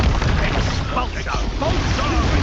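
Expulso spell explosion in Hogwarts Legacy: a loud, rumbling boom with layered bursts rolling on for a couple of seconds, close and heavy amid busy combat sound.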